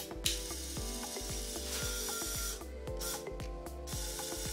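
A Rokodil Twist 2 Air 12 V brushless cordless drill runs with a rapid, regular ratcheting whir close by, its speed shifting slightly as the trigger is eased, with no talk.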